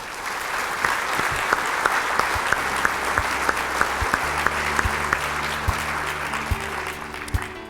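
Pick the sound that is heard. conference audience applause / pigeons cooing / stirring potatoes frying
conference audience applause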